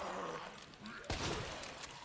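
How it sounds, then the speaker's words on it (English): Pistol shots fired at zombies in the Resident Evil 2 Remake, a sharp crack near the middle over dense game ambience and music, with further muffled impacts and a voice murmuring in the background. "We're just gonna shoot them in the leg."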